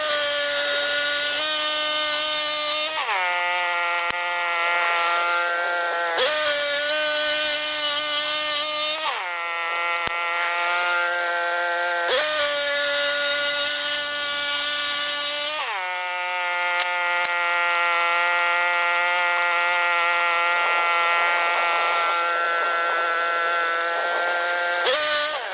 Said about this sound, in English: So that sawing is in real time.